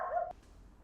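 A dog gives one short bark, a tonal yelp of about a third of a second, heard from a moderate distance in an otherwise quiet setting.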